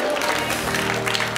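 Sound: congregation clapping hands

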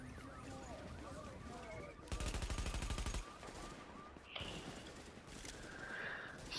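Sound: gunfire in a video game

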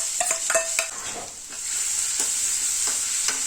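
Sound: cumin and green chili-ginger paste sautéing in peanut oil

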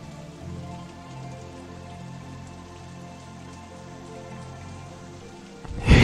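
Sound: rain falling in video game OpenRCT2 rainy scenario

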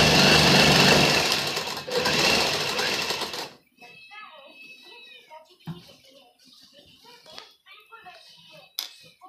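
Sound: sewing machine stitching a kurti hem

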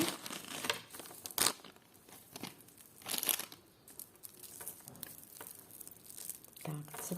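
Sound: small packet being opened

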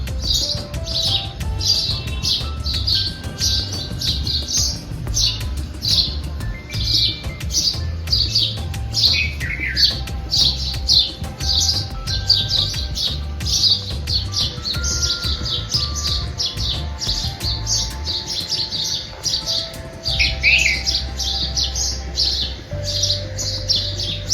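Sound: sparrows and birds chirping in the morning

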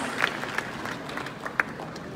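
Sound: audience applause at a ghazal concert

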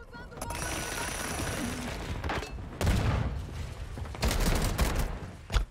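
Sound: shotgun fire in a video game

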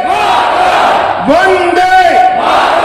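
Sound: rally crowd loudly shouting the slogan response

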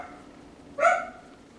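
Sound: small dogs barking outside on a terrace

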